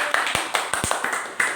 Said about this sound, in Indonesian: Ya, tepuk tangan yuk